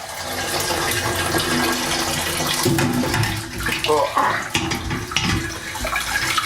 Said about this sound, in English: I'm going to take out the bag of grains.